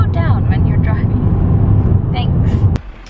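A car cruising along George Gray Drive near Kalbarri, Western Australia, with a loud steady low road and engine rumble that cuts off abruptly near the end, voices talking over it.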